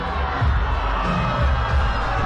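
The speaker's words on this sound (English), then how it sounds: "while the whole crowd cheers him on" A baseball stadium crowd cheers loudly and continuously, a broad roar with a few shouts rising out of it and no single voice standing clear.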